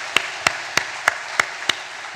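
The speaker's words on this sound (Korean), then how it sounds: "하나님께 영광의 박수 드리겠습니다." Six crisp, evenly spaced hand claps during a Korean church worship service, each a sharp single strike in a slow steady rhythm, fairly close and clear over a quiet room.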